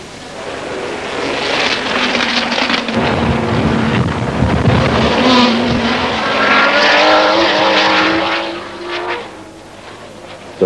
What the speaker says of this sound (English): Rodriguez in the Gulf Porsche works hard to stay with Ickx in the prototype Ferrari